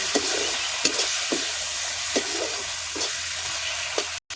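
Chana masala sizzles steadily in hot oil in a pan, a continuous close frying hiss broken by several soft stirring scrapes, with no voices.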